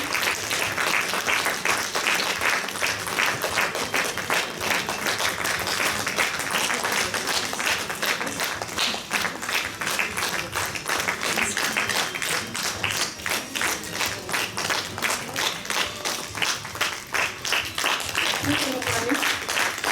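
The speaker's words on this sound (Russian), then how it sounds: "Аплодисменты в зале, громче." A conference-hall audience claps at an award ceremony, a sustained, loud, rhythmic applause filling the room, with a voice briefly audible near the end.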